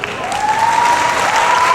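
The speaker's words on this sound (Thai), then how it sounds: "ขอเสียงปรบมืออีกครั้งครับ" Audience applause at a Miss Grand Saraburi 2024 farewell event, a dense burst of clapping that swells and holds steady, with a sustained tone running underneath.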